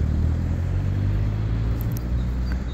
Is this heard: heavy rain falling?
no